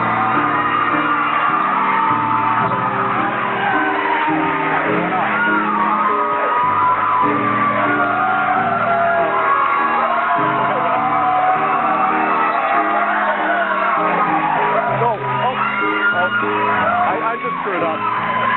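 A talk show studio audience screams, whoops and cheers loudly and continuously as a guest arrives, a dense roar of crowd voices with music and speech mixed in throughout.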